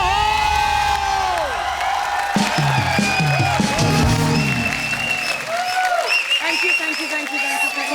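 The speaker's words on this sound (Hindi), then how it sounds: "और जोरदार खुल के तालियां" Studio audience on a TV comedy show erupts in loud, continuous applause with cheering and whoops, while people talk and a musical sting plays over the crowd throughout.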